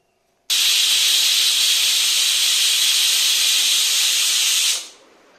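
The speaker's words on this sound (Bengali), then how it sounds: "এবার প্রেসারের ঢাকনাটা আটকে দিচ্ছি। এখন আমি এটাকে 3টে সিটি দিয়ে নেব।" A pressure cooker boiling sweet corn lets off steam in one loud, steady hiss. The hiss starts suddenly, holds for about four seconds and then fades away, and no voices are heard.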